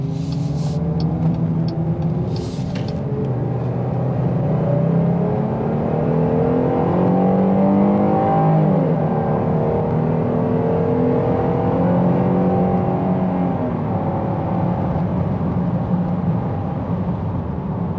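The 2021 Jeep Grand Cherokee L's V6 engine pulls uphill, a steady droning hum from inside the cabin that rises and shifts in pitch as it accelerates, loud and continuous with no talk.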